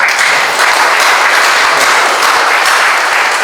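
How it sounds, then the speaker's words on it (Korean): Audience applause at an art exhibition opening for a painter's solo show, a dense steady wash of many hands clapping, loud and close throughout. "여기 앉아 계신 모든 분들 다 함께 크게 힘차게 박수 한번 칠까요?"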